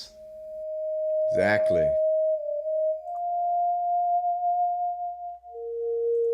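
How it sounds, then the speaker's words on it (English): A Continuum electronic instrument plays its most basic sine wave preset, a pure steady tone gliding slightly in pitch and stepping lower near the end, with a brief spoken word cutting in early. "It's just a sine wave where left to right controls pitch and pressure controls volume."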